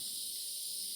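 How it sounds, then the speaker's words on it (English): Night insects, cicadas among them, in Francis Marion National Forest beside an abandoned road: a steady, dense high-pitched hiss and buzz that holds evenly throughout with no breaks, with no voices or other sounds. "you can hear all the night critters coming out. Love it, cicadas and whatnot."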